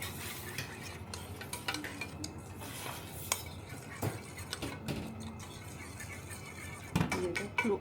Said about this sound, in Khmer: កូរវាអញ្ចឹងណា